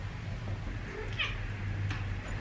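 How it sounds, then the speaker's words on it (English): A cat meows at a door trying to get into a room, one or two short, moderately clear meows over a steady low hum, with no talking. "Hold on, my cat's trying to come in."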